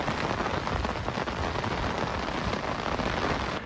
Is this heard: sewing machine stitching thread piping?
no